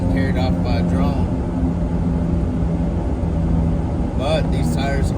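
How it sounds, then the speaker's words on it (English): Mud-grappler tires roar loudly against the road as a car drives on an Arizona snow day. The heavy, steady drone runs without a break while a person talks over it. "Not with these dang tires making all that noise."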